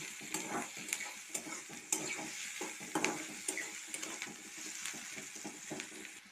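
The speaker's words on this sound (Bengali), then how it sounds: "পেঁয়াজগুলো আমার একটু ভাজা ভাজা হয়ে গিয়েছে" Onions sizzle quietly in a frying pan with dried and green chillies and garlic, broken by frequent rhythmic scrapes and clinks of a spatula stirring them, with no talking.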